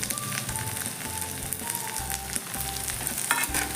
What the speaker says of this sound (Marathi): आलं लसूण पेस्ट हे चांगलंच भाजून घ्यायचं तेलात.